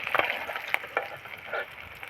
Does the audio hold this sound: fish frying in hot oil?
yes